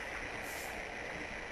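Inside a moving train in the video game Silent Hill 3, a steady rumbling roar and hiss of the train ride holds constant with no other sounds.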